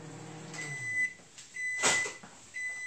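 A kitchen microwave oven heating a refrigerator fudge recipe gives off three clear beeps spaced through the stretch, with a brief burst of rustling or a door clunk in the middle, near and fairly loud, with no talk.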